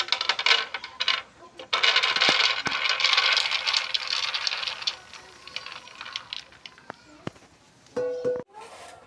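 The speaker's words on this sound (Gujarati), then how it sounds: "એને આપણે હવે આ રીતે ફોફા ઉખેડી નાખશું સિંગને આ રીતે સોળી લેવું" Roasted peanuts rubbed by hand to loosen their papery skins while making peanut chikki: a close, dry, continuous rustling rattle with short pauses and a few sharper clicks, and a voice speaking at times.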